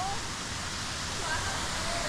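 Kalawaig waterfall in Barangay Bayang, Lanao del Sur, Mindanao, gives a steady, unbroken broadband rush of falling water that stays loud and even throughout, with faint voices talking in the background.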